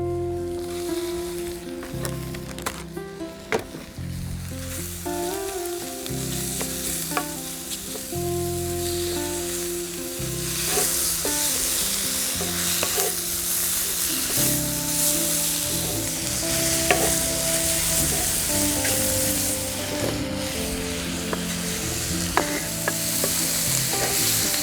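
Beef sizzles and fries in a pot over a portable firewood stove, with a utensil scraping and clanking as it stirs in repeated strokes, the frying hiss swelling louder later on, close up and with no talk.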